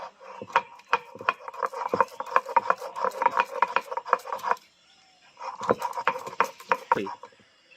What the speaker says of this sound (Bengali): এটা আমি মিক্সিতেও বাটলে পারতাম কিন্তু আমার মনে হয় সব কিছু শিলনোড়াতে বাটলে টেস্টটা একটু ভালো হয়